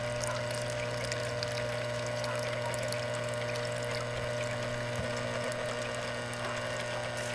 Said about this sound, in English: So you can see the water as it's going through the machine.